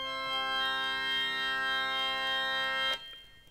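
A dominant seventh chord tuned in just intonation rings from a Tonal Plexus keyboard, a smooth sustained chord held steadily for about three seconds before ending abruptly, with no talking over it.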